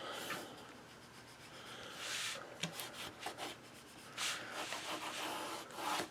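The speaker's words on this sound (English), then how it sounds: "You can take your bond folder and burnish" A bone folder burnishes paper on a DIY 8 x 8 mini album, giving short, close-up rubbing and scraping strokes in a few separate bursts, with quiet pauses between them and no voices.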